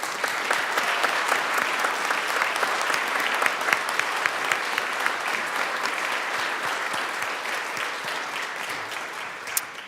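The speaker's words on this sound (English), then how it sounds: "A round of applause, please." Sustained applause fills a legislative chamber during a state house session, dense even clapping at a steady level with a few sharper claps standing out and no talk over it.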